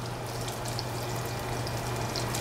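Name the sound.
onions sautéing in a pan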